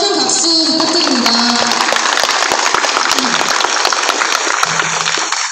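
Sustained crowd applause at a memorial rally marking the first anniversary of a cleaning worker's death at Seoul National University building 302, following an energetic performance, with scattered voices and cheers mixed in throughout.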